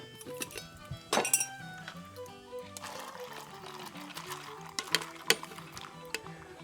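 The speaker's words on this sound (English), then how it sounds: "And now we're going to add the peas." Dried peas tipped into an iron pot of beef stew at an 18th-century soldiers' cooking fire, giving scattered light clinks and a brief rattling pour, fairly faint, with sparse knocks after.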